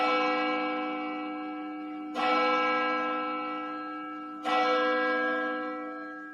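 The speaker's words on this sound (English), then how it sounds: "Can you drop a church bell for me" Three loud church bell strikes ring out about two seconds apart, each with a sharp attack and a long, rich, humming decay that carries into the next, with no voices over them.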